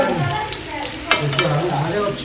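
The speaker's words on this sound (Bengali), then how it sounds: "এখানে তো কচু আর আলু ভাজা হচ্ছে" Taro and potato pieces frying in a pan for khichuri, heard as a close, crackling sizzle with stirring scrapes and a sharper clatter partway through.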